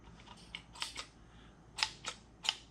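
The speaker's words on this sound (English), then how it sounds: "You can hear it puncturing the can." A screw-on hose tap piercing an automotive AC refrigerant can gives a few short, sharp clicks and snaps spaced through a couple of seconds, close by and fairly quiet, with no talking.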